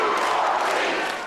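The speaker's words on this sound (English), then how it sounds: "before a Pennsylvania crowd chanting 2 more weeks" A Pennsylvania crowd at a John Kerry campaign rally chants together, a loud, dense wash of many voices sustained without a break and fading slightly at the end.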